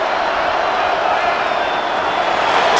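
A roaring stadium crowd in Madden NFL 26 during a Chiefs versus Packers game, a steady, loud wash of cheering and noise with a commentator's voice over it.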